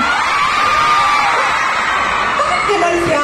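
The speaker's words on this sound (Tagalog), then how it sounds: "Bakit kailangan may sigawan pag sinabi ko yun?" A Filipino audience shouts and cheers in a loud, sustained mix of high yells and whoops that fills the room from start to end.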